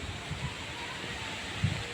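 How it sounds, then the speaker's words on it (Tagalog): Strong wind roars steadily across the microphone, a broad rushing noise with occasional low buffeting gusts. "Tingnan nyo guys, ang lakas-lakas ng hangin."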